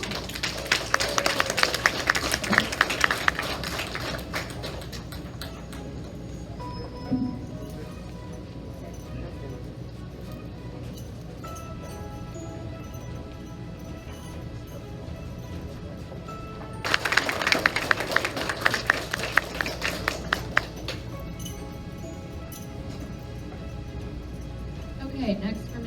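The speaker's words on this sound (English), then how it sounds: "give Miss Command's class a round of applause." At a 5th grade commencement ceremony, the audience gives two bursts of lively applause for a class, each lasting several seconds. A speaker talks over a quieter room between them.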